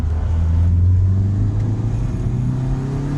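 Turbocharged Honda D16 car pulling hard in cold weather, a loud, steady low engine drone with strong harmonics that climb slightly in pitch as it accelerates, close and continuous throughout.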